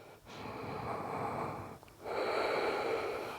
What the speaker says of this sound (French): Prenez une dernière respiration.